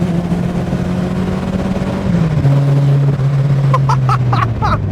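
A Volkswagen Golf G60 driven hard on the road, its engine drone holding a steady pitch before dropping briefly as the gear changes, then carrying on in the next gear with wind noise and a few quick rattles near the end.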